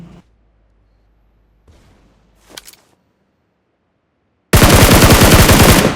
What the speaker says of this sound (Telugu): 14 బుల్లెట్లు వేస్ట్ చేశానని చెప్పి దాన్ని రీలోడ్ చేశా